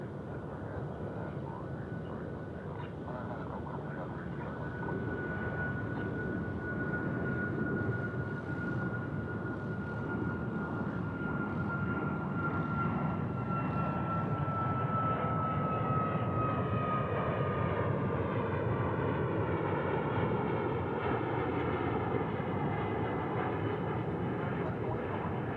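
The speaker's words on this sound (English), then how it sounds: "737, 800 departing now." A Boeing 737-800 jet departing DFW International Airport, its engines roaring steadily for the whole stretch with a high whine that slowly falls in pitch as it climbs away.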